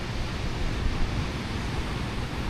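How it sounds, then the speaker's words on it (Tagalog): Steady wind blowing across an open beach at El Nido, a broad continuous rush with possible surf mixed in, moderately loud and unbroken, with no voices. "Medyo mahangin ngayon."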